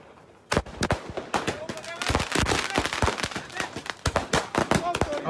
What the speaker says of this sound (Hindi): अब बंद नहीं हो रहे पटाखे पीछे से।